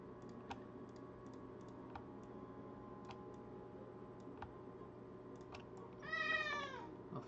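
Soft, scattered keyboard taps and clicks tick over a steady room hum, then a house cat gives one clear, close meow near the end.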